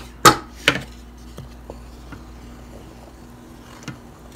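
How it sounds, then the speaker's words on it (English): A spoon stirring Great Northern beans in a Power Pressure Cooker XL, two sharp knocks against the pot followed by faint scattered clicks over a low steady hum. "I'm going to stir this up real quick."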